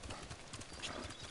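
Horse hooves clip-clop in a steady rhythm while riding in a PS4 video game, with no talk over the hoofbeats.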